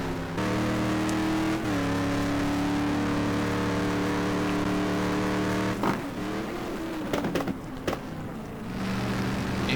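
A Ford GT race car in a racing video game sends out a loud, steady engine drone that shifts pitch through gear changes and braking on track. The car stays close throughout, and no voice is heard over it.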